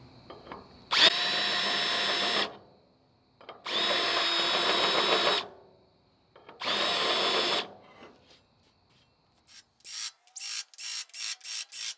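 A power drill bores countersunk bolt holes in steel during a hitch fabrication on a 1988 IH scissor dump truck. Three loud, sustained drilling runs are separated by pauses, followed by a quick series of short ratcheting bursts.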